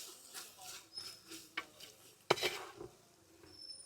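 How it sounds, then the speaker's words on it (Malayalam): Beef being stirred with biryani masala, meat masala and pepper powder in a pot, giving soft, close, intermittent scraping and wet squelching sounds, with one sharper clack of utensil on metal. "എന്നിട്ട് നമുക്ക് എല്ലാം കൂടി നന്നായിട്ടൊന്ന് മിക്സ് ചെയ്തെടുക്കാം"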